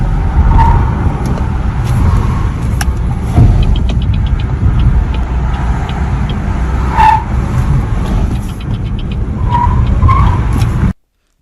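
A BYD electric car driving and cornering badly, with steady road and tire noise throughout and a few brief squeals of tires scrubbing through the turns, no talking.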